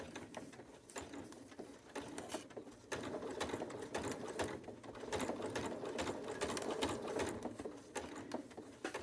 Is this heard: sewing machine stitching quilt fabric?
yes